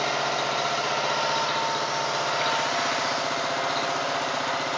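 A used Japanese Robin engine drives a pressure washer, running loud and steady close by with a constant buzzing drone and no pauses or talk.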